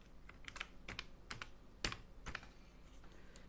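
Computer keyboard typing, a handful of distinct clicky keystrokes spaced irregularly, close and fairly quiet with no talking.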